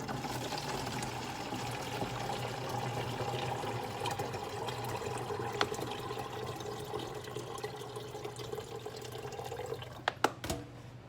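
Rice water is poured from a container, making a steady liquid splashing and trickling that runs continuously, ending with a few sharp knocks and clinks.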